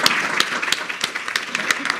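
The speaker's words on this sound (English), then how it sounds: "please join me in giving a huge round of applause" An audience at a volunteer attorneys' event claps for the presenters: dense, continuous applause with scattered sharper claps across the whole stretch.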